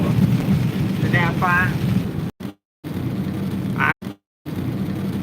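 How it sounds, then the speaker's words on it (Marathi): Heavy rain pours steadily in a thunderstorm, a loud close broadband wash with a voice speaking briefly over it and two short dropouts; no distinct thunder clap stands out. "जोरदार पाऊस आहे"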